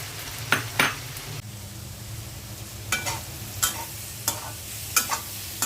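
Shrimp and ash gourd cooking in a home kitchen pan, a steady low sizzle broken by several sharp stirring scrapes and clinks at irregular intervals, with no talking.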